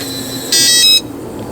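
An RVLOCK keyless RV door handle locks with a single loud, sharp electronic buzz of about half a second, close up, with near silence before and after.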